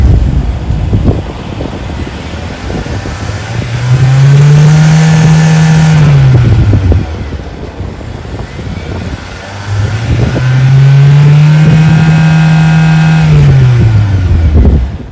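A 2023 Hyundai Santa Fe Hybrid's 1.6-liter turbo engine revs up twice, each time rising to a steady high drone, holding, then falling back to idle, loud and close.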